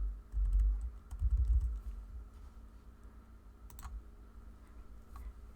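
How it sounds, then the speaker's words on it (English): Several quiet clicks from computer keys, a few separate taps spaced apart, over low background hum and some soft thumps. "You can also use the arrow keys on your keyboard to move it."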